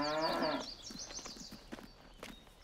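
Cattle in Farming Simulator 22 give a clear moo at the start, followed by faint shuffling and clopping sounds at moderate distance.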